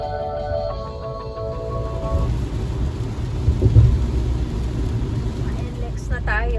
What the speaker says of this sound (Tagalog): Pero lumalakas naman din yung ulan na naman.